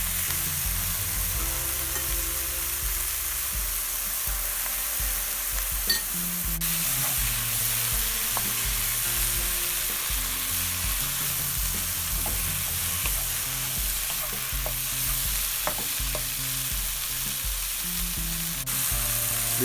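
Green curry paste for a vegan Thai green curry sizzles and crackles steadily in a hot pan while being stirred, with occasional sharper pops over a soft background of music.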